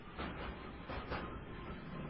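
Train-ride ambience in the Tales From The Night Café video game, set in snowy season: a steady, quiet rumbling roll of a rail carriage with faint rhythmic clatter, alone and unbroken.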